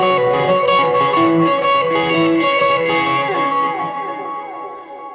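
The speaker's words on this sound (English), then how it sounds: "I've got 2 delays that are working on parallel paths there." Electric guitar run through two parallel delay paths on a final chorus preset, sustained chiming notes smeared into a dense wash of repeats that slowly fade out; loud and close, with no talk.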